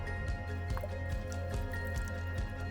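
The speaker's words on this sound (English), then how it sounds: "We'll pour some water on it." Water poured onto a small wad of cotton dryer lint, giving soft dripping and squishy wet sounds in short bursts over a steady low background hum.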